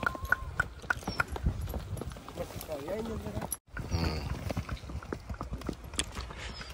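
Horse hooves clip-clopping during a morning horse ride on a misty day: steady, close, rhythmic hoofbeats with someone talking over them and a brief dropout midway.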